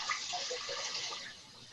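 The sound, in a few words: water running from tap into a bowl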